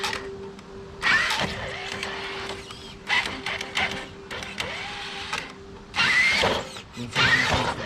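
Traxxas TRX-4 Bronco RC truck with a Slate 2280kv motor, giving short bursts of high electric motor whine and gear noise that rise and cut off in separate spurts between quieter pauses.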